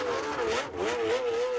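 A 1980 Formula One race car heads out for practice, its engine holding a steady wavering whine at moderate distance, fairly faint and alone.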